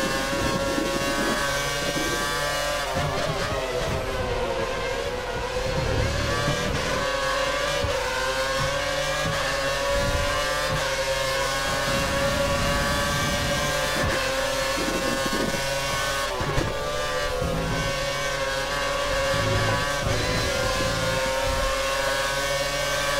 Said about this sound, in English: the downshift sound that Codemasters have introduced is very, very nice